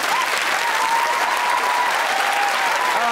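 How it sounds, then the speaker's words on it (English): Studio audience at a live BBC sketch comedy recording gives a round of applause, a dense, steady wash of clapping from many hands, loud and close, with no talking. "Let's have a pointless round of applause there,"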